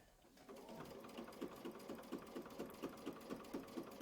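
A sewing machine stitches a quilt block around a template, starting up after a brief pause and running at a steady, even rhythm of rapid mechanical pulses, close and fairly quiet.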